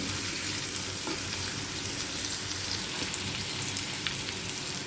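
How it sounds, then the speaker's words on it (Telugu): Onion pieces frying hard on high flame for fried rice, a steady dense sizzle with faint scattered crackles, close and continuous with no voices. "హై ఫ్లేమ్ మీదనే చేసుకోవాలి బాగా వేగనివ్వాలి ఉల్లిపాయ ముక్కల్ని"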